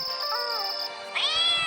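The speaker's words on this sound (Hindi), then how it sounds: "रात को सारा को बिल्ली की रोने की आवाज़ आती है" A cat cries at night in two drawn-out, wavering meows, the second rising sharply after a short pause, close and clear with no other sounds.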